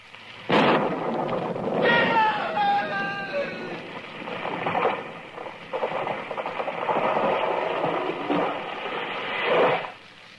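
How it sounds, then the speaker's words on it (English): Radio drama effect of lightning striking a tree with thunder: a sharp crack, then a long loud rolling rumble that carries on for several seconds before fading, with no talk over it. "It was lightning. It struck the tree."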